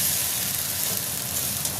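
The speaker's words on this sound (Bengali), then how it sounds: "তার মধ্যে এদিকে আলু ভাজা বসিয়ে দিয়েছি।" Potatoes frying in a pan, an even, dense hissing sizzle heard close and steady for a couple of seconds with no talking.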